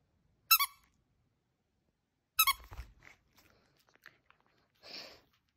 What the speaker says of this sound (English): Do you not like the squeaker?